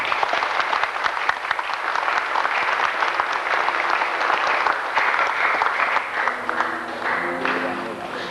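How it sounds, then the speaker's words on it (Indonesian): A church anniversary congregation gives a loud, sustained round of applause, dense clapping filling the space before thinning near the end as a tone or voice emerges. "Kita beri tepuk tangan"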